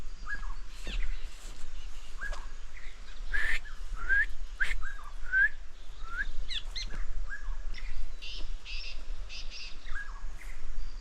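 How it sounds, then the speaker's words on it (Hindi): Parrots eat fruit in green trees at a hillside cottage in Mukteshwar, giving short scattered chirps and whistled calls at mid distance over a steady outdoor background. "तोते मस्त बढ़िया फल एंजॉय कर रहे हैं।"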